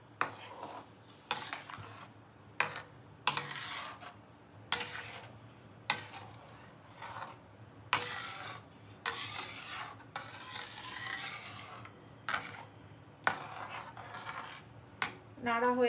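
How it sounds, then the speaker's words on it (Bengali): Homemade tomato ketchup is stirred in a pot, with repeated scraping strokes in an irregular rhythm, loud and close, and a voice briefly heard between strokes. "এরপরে খুব ভালো করে নেড়ে দেই।"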